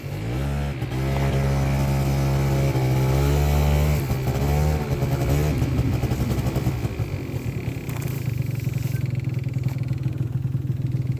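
A Honda Zuma scooter's small engine revs up loudly with rising and falling pitch, then settles into a steady, rattling idle close by, with no exhaust leak.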